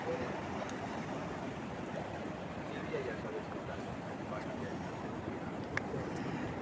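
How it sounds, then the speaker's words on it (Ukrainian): Calm sea at Forte dei Marmi in Italy on a warm day, a steady soft wash of gentle surf with light wind, continuous and fairly even, no voices standing out over it. "І ось таке море. Досить спокійне, гарне."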